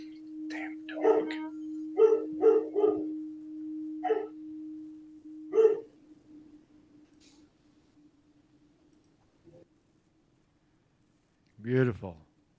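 A dog barks several times in quick bursts, fairly close, over a steady electronic hum during a live morning show; the barking stops, the hum fades, and a short voiced sound comes near the end.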